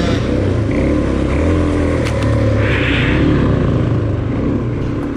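Dual-sport motorcycle climbing a rocky trail, its engine loud and close with a constant throaty drone that surges as the throttle rises, plus wind buffeting, throughout.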